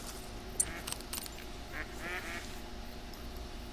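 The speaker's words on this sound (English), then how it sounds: "I hear some mallards." Mallard ducks quack at a lake, a few scattered nasal calls at moderate distance over steady outdoor background noise.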